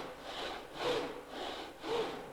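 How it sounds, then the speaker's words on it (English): Two slow, rhythmic back-and-forth sawing strokes, a rasping scrape repeating about once a second, fairly quiet and close. "Pete had a big saw."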